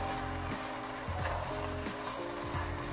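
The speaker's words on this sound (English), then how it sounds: "We're going to give this meat and onion a little initial stir." Meat and onion stirred as they fry in a pot for Persian khoresh gheymeh, a steady sizzle running throughout with the scrape of a spoon against the pot recurring every half second or so, close and alone.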